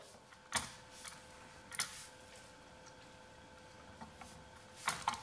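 Plastic doors of a Kenner M.A.S.K. Rhino toy truck are opened, giving a few quiet, sharp clicks and snaps spaced over several seconds against a faint background hum, with no talking.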